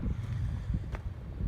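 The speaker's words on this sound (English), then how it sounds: "It's a little windy" Wind blows across a trail at dusk, a steady, loud low rumble buffeting the microphone with brief gusts, no voices.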